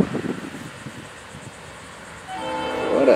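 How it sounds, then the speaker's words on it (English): An NS geometry train rumbles past with a rhythmic clatter of wheels, then a loud horn begins sounding and swells toward the end. "What a train."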